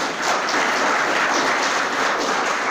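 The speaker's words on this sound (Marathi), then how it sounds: "तुम्ही इथं टाळ्या वाजवल्याच पाहिजेत मराठीसाठी." An audience at a Marathi Language Pride Day speech in a Pune law college hall breaks into sustained applause, a dense steady wash of clapping that stays loud from start to finish.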